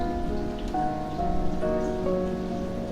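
Steady rain falling on a surface as ambient background in the DDLC Everlasting visual novel game, soft and continuous with faint tonal music lines running underneath.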